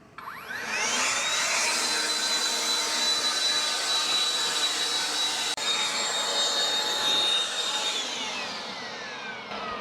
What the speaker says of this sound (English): Now that's how you sweep out your van.